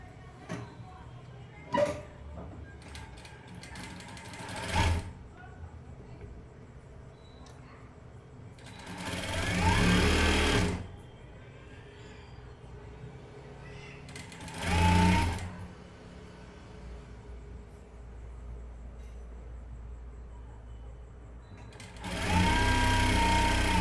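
A sewing machine stitches a blouse lining in three short bursts of straight seaming, loud and close, separated by quieter stretches of handling and rustling.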